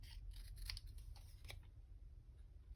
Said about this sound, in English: I'm going to cut this down to this inside.